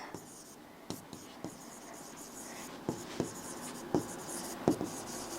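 Pen writing notes on paper, a series of light scratching strokes and taps spaced irregularly, close and quiet.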